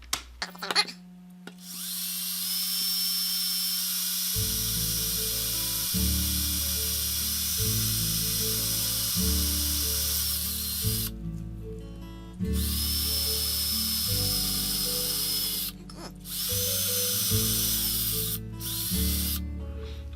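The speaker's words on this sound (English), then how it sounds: "I could safely drill that out without using the punch" A small drill whirs in long bursts with short pauses between them, close up, drilling out a hole in a Matchbox 52B BRM race car model, over steady background music.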